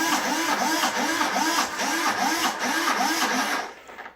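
A throttle servo on a giant-scale 60cc Hangar 9 P-51 model plane whirs back and forth in quick repeating sweeps, each a rising and falling electric whine, close and steady before cutting off.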